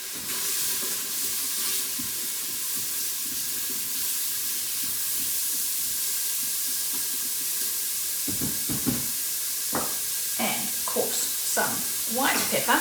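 Turmeric and garlic powder sizzling in a hot pan, a loud continuous frying hiss with stirring scrapes, and sharper spoon knocks and scrapes toward the end.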